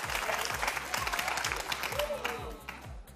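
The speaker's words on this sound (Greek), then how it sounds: "Έλα, χειροκροτήστε." TV studio audience applauding on a Greek entertainment show, a full, continuous patter of many hands over a pulsing low rhythmic music bed, steady for about three seconds and fading slightly toward the end.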